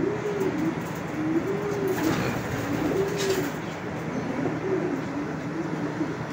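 Breeder hen racing pigeons coo in a loft with soft, repeated rolling calls in a steady rhythm, close and moderately loud over a constant background hum.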